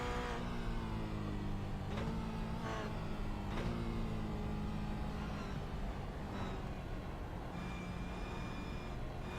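A Toyota GR86 race car on track at Oschersleben heard from inside, its engine droning loudly and steadily with rising and falling pitch as it accelerates and shifts, no talking over it.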